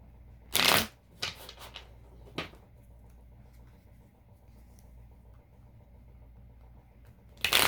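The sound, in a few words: shuffling tarot cards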